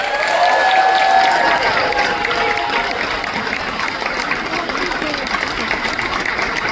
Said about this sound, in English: Maybe have a round of applause for them, please.